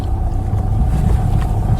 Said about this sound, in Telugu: లారీ వస్తుంది.